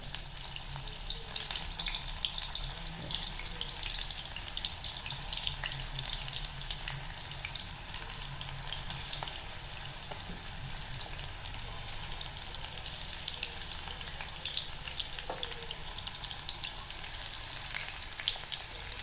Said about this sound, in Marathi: मीडियम गॅसवर आता भजी सोडून घेऊया आपण.